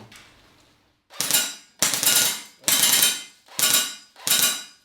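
An ASG G36 airsoft replica rifle fired in full auto, five loud sharp bursts of rapid shots in quick succession, close up, with short gaps between them.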